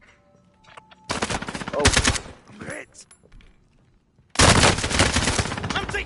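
Loud automatic gunfire in a PS4 shooter comes in two long sustained bursts of rapid shots, close and harsh, with a player briefly reacting aloud between them.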